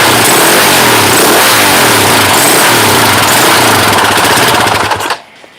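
A 2007 KTM 450 EXC dirt bike engine under repair revs loud and close, a rough pulsing roar that holds for about five seconds before cutting off abruptly.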